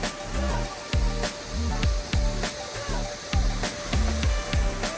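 Jang Waterfall, fed by the Nuranang river between Bomdila and Tawang, as a broad continuous rush of falling water, with rhythmic low thumping noises mixed in.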